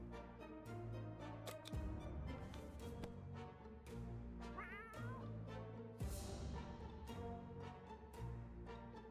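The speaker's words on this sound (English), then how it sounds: "At least the cat's back." Cat meowing in the video game 60 Seconds! Reatomized: one short meow near the middle, fairly faint, over a steady bed of game music and ambience, with no talking.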